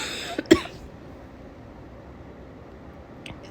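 A sick woman with a nasty cough gives one sharp, close cough after a smaller lead-in sound, then quiet room tone with a faint second cough near the end.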